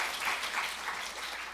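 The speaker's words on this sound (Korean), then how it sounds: "우리 하나님께 영광의 박수 돌리면서 축복합니다." Church congregation gives a brief burst of applause, a soft, diffuse wash of clapping heard at moderate distance with no one speaking over it.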